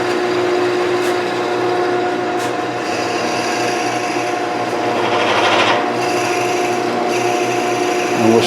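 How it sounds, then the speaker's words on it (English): A wood lathe runs with a continuous humming drone and a raspy, scraping texture that swells briefly partway through. "let me turn this lathe back on."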